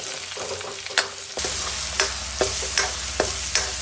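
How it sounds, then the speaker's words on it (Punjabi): Garlic paste with cumin sizzles and roasts in a pan for a Punjabi besan pakora curry, a steady loud frying hiss broken by regular spoon scrapes and clinks, with no talking. "ਤੇ ਨਾਲੇ ਪਾ ਦਿਆਂਗੇ ਆਪਾਂ ਲਸਣ ਦਾ ਪੇਸਟ ਹੁਣ ਆਪਾਂ ਨਾ ਇਹਨੂੰ 2 ਮਿੰਟ ਭੁੰਨਾਂਗੇ"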